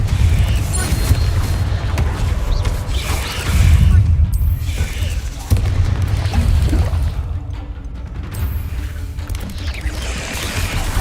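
Confringo blasting spells in Hogwarts Legacy set off repeated booms and crashing impacts over a steady low rumble of combat noise, with spell blasts landing every few seconds.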